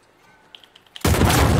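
In the Uncharted video game, a thrown gas canister explodes with a sudden loud blast after a second of faint clicks and quiet ambience, the roar then sustaining at full strength to the end.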